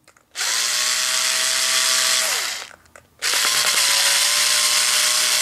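A power drill loosens three screws on a new electrical plug during an arcade cabinet restoration, running in two loud, steady whining bursts separated by a short pause.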